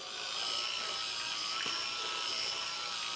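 Small electric automatic stirrer motor straining against thick canned chicken noodle soup, a steady high-pitched whine with grinding texture running continuously and close.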